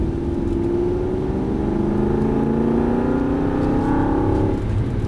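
An Aston Martin V8 Vantage drives on a race track, its V8 engine droning loud and close as it accelerates, with the pitch climbing steadily through the gear before easing off near the end; no talking.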